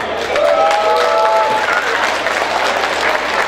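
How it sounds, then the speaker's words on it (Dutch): Audience applause during a special episode of a variety show, a loud, sustained crowd clapping with some cheering and a few whistles near the start. "We mogen een applaus bieden."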